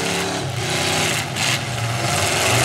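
Several pickup truck engines roar loudly together in a demolition derby, a dense continuous mechanical drone with brief revving surges and no talk.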